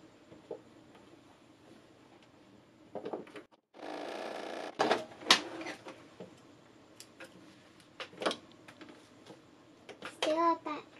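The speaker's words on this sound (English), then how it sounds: "I'm going to sew the last little piece" A domestic sewing machine stitches the final small piece of a quilted pumpkin block onto the stem end, heard as a short whirring burst among scattered clicks and handling knocks, with a voice talking nearby.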